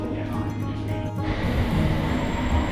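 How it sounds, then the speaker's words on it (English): A London Underground Circle line train at King's Cross station, a steady loud rumble with a brief shift midway, no clear squeal or announcement standing out. "we're now here at the London Underground at King's Cross, and we're waiting for the Circle line to take us to Tower Hill"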